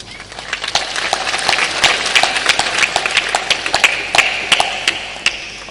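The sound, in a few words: people clapping hands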